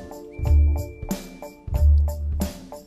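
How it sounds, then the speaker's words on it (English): A full groove playing together, with deep bass, drums, hi-hat, tambourine, wah guitar and a sustained synth line, a loud pulsing rhythm with no talk. "Here's how the whole groove sounds together."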